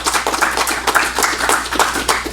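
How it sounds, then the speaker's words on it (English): A small audience claps at a talk, the hand claps coming in close, uneven bursts for a couple of seconds with a low hum underneath. "A big round of applause"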